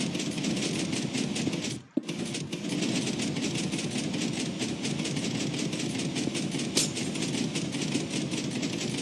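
A steady mechanical chugging drone of Minecraft pistons runs continuously, with a rapid rhythmic pulsing, briefly cutting out once before resuming at the same level.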